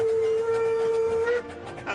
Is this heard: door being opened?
no